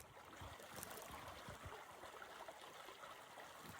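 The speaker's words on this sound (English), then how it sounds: "Love the sound of water running." Water running in an outdoor stream on a mild spring day, a steady broadband rush and trickle continuing evenly throughout without any voices.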